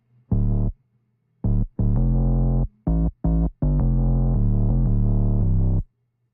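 A sub bass layer alone in Reason 12 with the melody removed: a series of deep, rounded synth bass notes in a stuttering, syncopated pattern, some short and some held, with brief gaps between.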